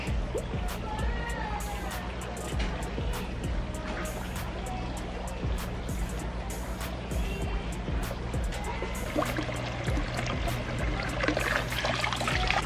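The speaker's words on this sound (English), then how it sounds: "So now we will add water to this tank." Unchlorinated deep-well water splashes and trickles into a fish tank, a continuous bubbling pour with irregular sharp splashes, fairly close and moderately quiet, growing slightly busier toward the end.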